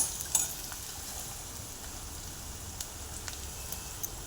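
Onion and green chili fry softly in oil for phodni poli, a quiet, even sizzle with occasional light crackles and ticks.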